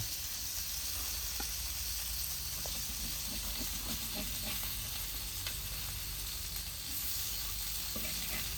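Boneless Boothai fish frying in oil: a steady, dense sizzle and hiss throughout, with a few faint clicks of utensils and occasional crackles, close and continuous.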